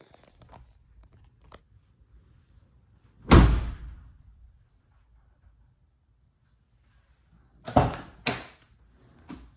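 A car door slams shut twice after sound insulation work: one solid, muffled thud, then after a pause two quick thumps close together, with near silence between.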